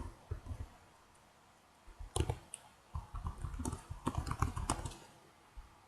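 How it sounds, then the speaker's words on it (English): Quick irregular clicking of a computer keyboard as announcement text is typed, with sparse taps first, then dense bursts of close, crisp keystrokes and no talk. "Then I would type the text of my announcement here."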